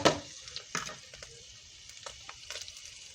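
Food cooking down in a pan with a soft steady sizzle, broken by a few scrapes and stirs of a utensil, close and moderately quiet.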